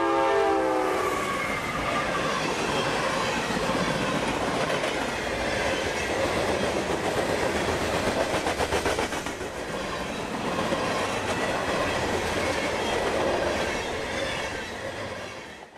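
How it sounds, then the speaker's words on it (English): A southbound freight train, a fairly short one of about 4,500 feet, rolls past at close range in central Florida, with a loud continuous rumble, rhythmic clickety-clack of wheels and a horn sounding near the start. "train M457, southbound freight for Taft Orlando out of Waycross"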